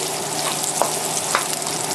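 Chinese broccoli sautes over nearly high heat, a loud continuous sizzle and fry with a couple of brief stirring clinks, no voices.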